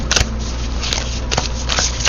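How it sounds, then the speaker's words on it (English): Tarot deck being shuffled by hand in several quick riffling bursts, close and crisp, with soft card rustling between them. "can you see me shuffle? Some people really enjoy seeing the shuffle."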